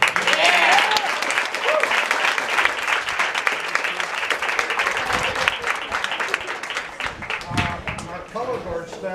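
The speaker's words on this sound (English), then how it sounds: "round of applause." A room of guests at a school band awards banquet breaks into a loud round of applause for the percussion leader, sustained clapping with some cheering and crowd voices mixed in, tapering slightly toward the end.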